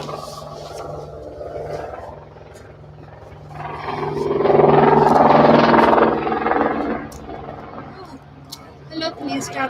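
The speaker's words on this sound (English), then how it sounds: "Hello, police chopper." A police helicopter circling over a garden, its rotor drone swelling from faint to loud and then fading again as it passes, with a person talking over it.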